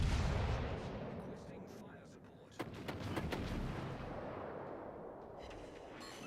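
Warship main battery guns firing in the naval combat game World of Warships: Legends, several heavy booming shots in quick succession over a constant rumbling battle backdrop, fairly loud and close.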